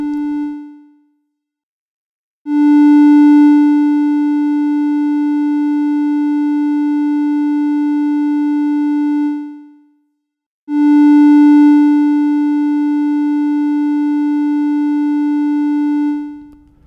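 A synthesizer tone from the Arturia Modular V software, shaped by an ADSR envelope, plays two sustained held notes. Each rises quickly, holds steady for several seconds, then fades out over about a second after release.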